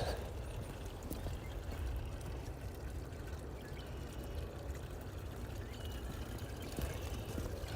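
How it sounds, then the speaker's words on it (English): Running water trickles and pours steadily somewhere near a path on a walk outdoors, a soft continuous wash of flow with no talk over it. "I thought I heard running water."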